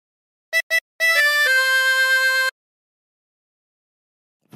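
A harmonica plays a phrase from a hymn-like song: two short staccato notes, then a run of held notes ending in a sustained tone, clear and close, followed by silence.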